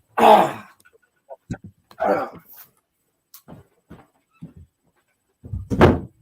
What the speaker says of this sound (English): Let me just close the door a minute.